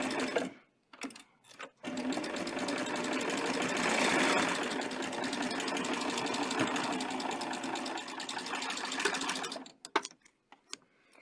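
Serger sewing machine stitching through soft Minky cuddle fabric with grey thread, a steady fast mechanical whirr running continuously for about eight seconds, close and loud, with brief handling noises before and after.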